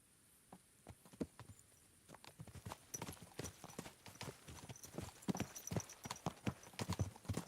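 Horse hooves clip-clopping steadily at a riding pace in Kingdom Come Deliverance II, close and fairly loud, a continuous run of sharp hoofbeats with no talk.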